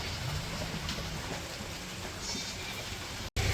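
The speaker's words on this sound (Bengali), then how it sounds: "বৃষ্টি ফোটা পড়তেছে তো এই জন্য ছাগল চিল্লাইতেছে" A goat bleats in the rain, its calls rising from steady rainfall that fills the background, moderately near, with no speech.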